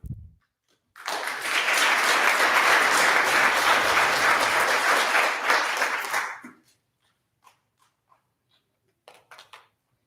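Audience applause at a swearing-in ceremony, a dense, steady burst of clapping lasting several seconds before cutting off, followed by a few faint scattered sounds.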